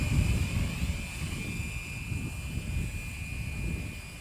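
Walkera 4F200LM RC helicopter flying outdoors in wind, a steady whirring rotor and motor drone at moderate distance with a high electric whine, no talking.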